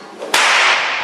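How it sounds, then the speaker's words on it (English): A stockman's whip cracks once with a sharp, loud bang that lingers into a broad hiss, performed at a wildlife park show; no voices. "to make the whip crack, we just swing it around and back."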